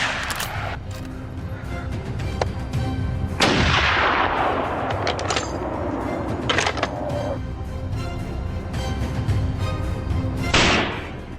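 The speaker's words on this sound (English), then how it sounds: "Wasting no time, my team and I opened fire." Repeated gunshots ring out during a wild boar hunt from a helicopter, sharp loud cracks with long echoing decays over a steady rotor-like rumble, several shots spaced across the stretch.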